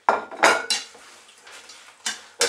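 A spatula scrapes and clanks against a pan while turning chicken, bacon and sausage in sauce for a stir fry, with a few sharp metallic strikes spaced apart and quieter scraping between.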